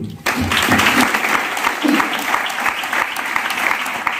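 A church congregation at a women's fellowship gathering breaks into sustained clapping, starting abruptly after a short quiet moment and continuing steady and dense throughout, close and loud.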